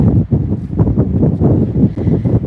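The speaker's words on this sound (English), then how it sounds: "Sounds mega windy." Wind gusts at a beach buffet the microphone, giving a loud, continuous rumbling roar with uneven surges and no voices.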